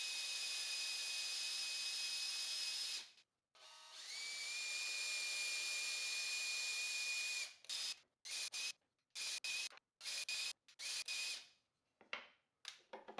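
An electric drill running on a slow setting to tap and thread holes for a woodworking cross cut sled, a long steady high whine, then a pause, then a second long run followed by many short bursts with gaps.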